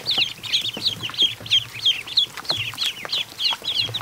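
Crossbreed ducklings, Muscovy among them, peep in a steady run of high, rapid chirps, close and fairly loud with no talking.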